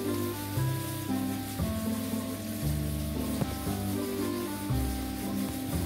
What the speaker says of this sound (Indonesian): itu mengalir deras ya, airnya mengalir, itu mengalir deras